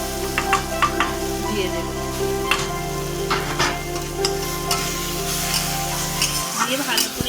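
Mashed potato filling with coriander leaves and peanuts being sautéed in a pan for Bengali singara, a spatula scraping and tapping rhythmically over a low sizzle while someone speaks.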